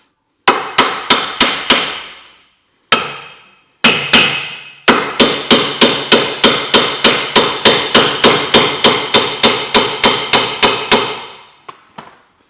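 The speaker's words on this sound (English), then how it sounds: "Couple of little taps." Repeated sharp metallic hammer taps drive a wishbone bolt home on a Vauxhall Corsa C suspension. A few quick strikes come first, then a long, steady, evenly spaced run of loud, close blows, each ringing briefly.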